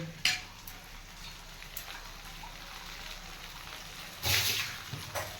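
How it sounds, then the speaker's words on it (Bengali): Eggplant slices sizzle in oil in a pan as they are lifted out, a faint steady crackle broken by a few louder spatters and a brief burst of hissing near the end. "বেগুনগুলো এবার আমি তুলে নিচ্ছি ভাজা হয়ে গেছে আমার বেগুনগুলো"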